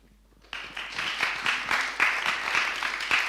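A lecture audience at Sciences Po breaks into applause after a brief quiet moment, a dense, close clatter of many hands that keeps going steadily to the end.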